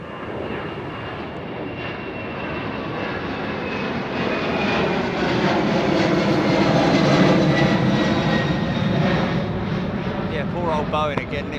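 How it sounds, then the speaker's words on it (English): A Boeing 767 jet at Heathrow Airport roars steadily as it passes, swelling louder through the middle and then easing slightly, with someone talking over the engine noise. "Beautiful 767."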